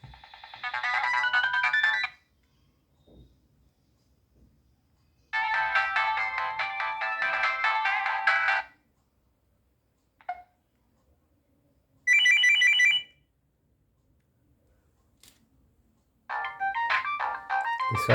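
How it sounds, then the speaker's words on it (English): Several short electronic Nokia 3230 phone ringtone melodies play one after another, bright and tinny, separated by gaps of silence. "Typical ringtones of Nokia."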